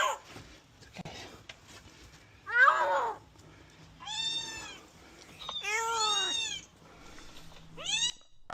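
A kitten stuck inside a drainpipe meows repeatedly, with high, strained cries coming in several drawn-out bursts, loud and close, with quiet gaps and faint handling noise between them.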